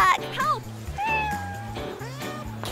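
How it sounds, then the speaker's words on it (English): A cat meows repeatedly while stuck up in a tree, its rising, wavering cries standing out over a steady musical backing, with a few voice-like sounds mixed in. "Ah, my cat is stuck."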